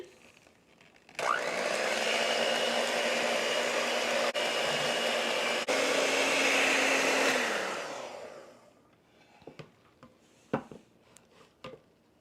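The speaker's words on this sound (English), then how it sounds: "I use my hand mixer instead of getting out the KitchenAid, which works mighty fine" An electric hand mixer whirs steadily for about seven seconds while blending heavy cream and seasonings in a kitchen bowl, then winds down, followed by a few faint clinks and taps.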